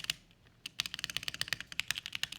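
Rapid typing on a computer keyboard with a modded spacebar, a quiet pause and then a steady run of crisp, close keystrokes with no voices.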